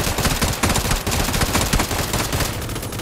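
An M249 machine gun fires in a video game, loud, dense and sustained, with rapid bursts running continuously through the whole stretch.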